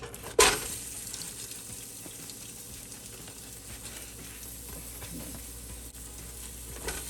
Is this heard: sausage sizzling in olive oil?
yes